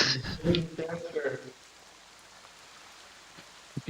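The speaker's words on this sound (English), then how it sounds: "what you should be now in the main map again with the rain" Steady rain in the tabletop-style video game Pathfinder: Rise of the Runelords: a faint, even patter that runs under a voice at first and then continues alone, soft and constant.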